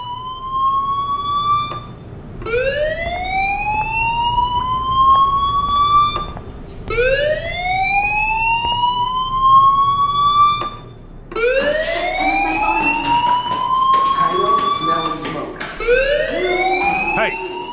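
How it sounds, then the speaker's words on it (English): A school fire alarm in the video game Life Is Strange wails in loud rising sweeps, several repeated whoops that climb in pitch, each followed by a brief pause, with a faint voice underneath. "do you hear that fire alarm? That means you should be outside."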